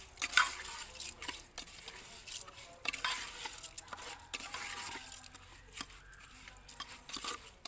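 Food is stirred as it fries in oil in a pan, giving scraping and clicking stirs over a steady sizzle that recur irregularly at close range.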